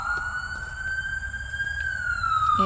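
Ambulance siren passing outside, a loud sustained wail that holds steady, then bends downward as it goes by, with road rumble beneath and no talking.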